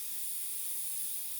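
Airbrush spraying paint, a thin, steady high hiss of air that stays even and fairly quiet throughout, with no talking over it.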